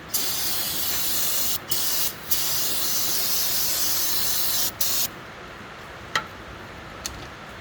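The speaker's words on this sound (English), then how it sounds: "Got some spray cleaner." Spray cleaner blasts onto the jack shafts of a mower in long, loud hissing bursts, broken by a few short gaps and then some brief clicks and short squirts toward the end.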